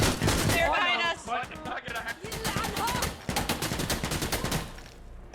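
Rapid gunfire in the tactical shooter Insurgency: Sandstorm, bursts of automatic shots crackling close and loud, layered with game effects and a player's voice talking over the fighting.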